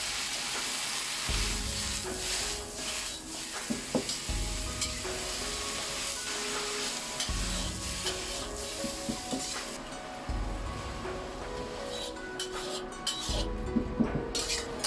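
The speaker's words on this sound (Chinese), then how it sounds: "继续翻炒" Shredded king oyster mushrooms stir-fried in a wok with a splash of water, steady sizzling under repeated scraping and clanking strokes of a spatula in an even rhythm, close and continuous without talk.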